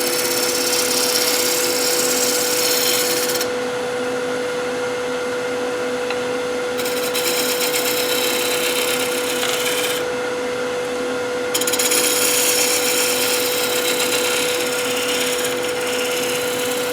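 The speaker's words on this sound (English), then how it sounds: "Just using this skew as a negative rake scraper." A skew chisel held as a negative rake scraper works the inside of an emerging hollow form on a wood lathe, giving a steady loud scraping hiss with a constant machine hum, broken by a few short pauses in the cutting.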